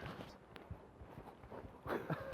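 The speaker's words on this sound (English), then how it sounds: "This is the sound of me undoing the straps, Greg" Straps on a Supair Skypper 2 paragliding harness being undone up close: soft fabric rustling and scattered small clicks and scrapes, busier toward the end, with no talking.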